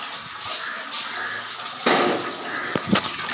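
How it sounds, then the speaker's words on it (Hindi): Tap water running into a cooking pot for tea, a steady broadband rush that swells louder partway through, with a few brief clanks of the pot near the end. "इसमें पानी भरना है अपना"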